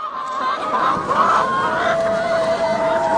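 Chickens cluck steadily and close by inside a poultry house, a dense flock chatter that fills the whole moment, with a faint thin tone running underneath.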